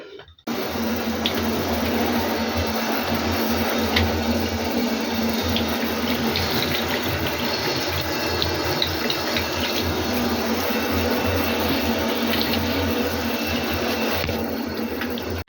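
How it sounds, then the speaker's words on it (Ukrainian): Steady shower water spraying and splashing onto potted plants in a bathtub runs continuously at moderate volume, starting abruptly and stopping near the end. "вазони знову ношу у ванну і зроблю їм традиційно душ"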